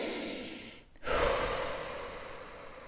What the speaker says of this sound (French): Prenez une respiration profonde.